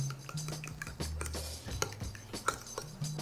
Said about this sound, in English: Now we're going to give that a little whisk